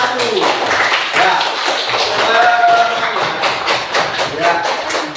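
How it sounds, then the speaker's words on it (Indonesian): A classroom group applauds another group, a few seconds of scattered hand claps and taps mixed with murmuring voices in the room. "kita tepuk tangan untuk kelompok 1"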